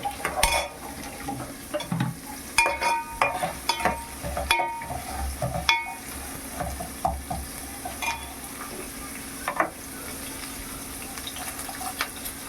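Onions and green chillies fry with salt in a pan on a stove, giving a steady sizzle broken by scraping stirs and light clinks of a utensil against the pan, with no talking.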